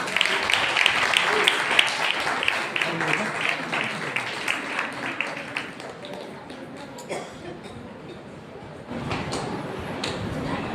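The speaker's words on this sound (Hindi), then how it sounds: "तो आइए जोरदार ताली के द्वारा सिस्टर वर्षा का हम स्वागत करेंगे।" A church audience at a Christmas meeting bursts into loud, dense applause that gradually thins and fades into scattered claps, with a voice heard near the end.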